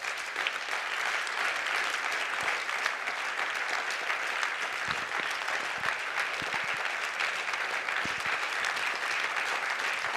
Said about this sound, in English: So please give a round of applause to our amazing friends.